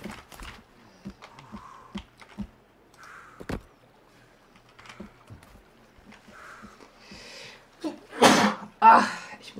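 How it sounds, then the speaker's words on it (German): A person sneezes loudly and close by, a sharp double burst that stands out against quiet, scattered clicks and soft rustling. "Ach, ich muss niesen."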